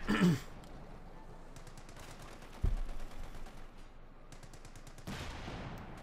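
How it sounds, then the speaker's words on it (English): Gunfire in the real-time strategy game Company of Heroes 2, rapid bursts of machine-gun fire and a heavier thump, distant and fairly quiet amid in-game battle noise. "Shots fired."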